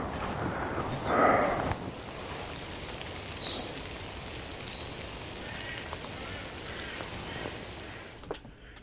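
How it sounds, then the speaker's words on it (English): Heavy rain pours down steadily in woodland, a dense continuous hiss with scattered drips and patters and no talking. "it's really pouring down now"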